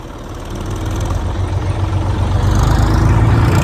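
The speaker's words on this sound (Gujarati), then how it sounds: "ચાલ્યું ચાલ્યું ચાલ્યું ચાલ્યું ટ્રેક્ટર ચાલ્યું" A tractor engine starting rumbles loudly close by on a farm field, a steady low drone that gradually builds in strength.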